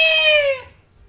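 A cat meows once in the fantasy game Guild Wars 2, a single high, drawn-out cry that fades after about half a second, close and clear.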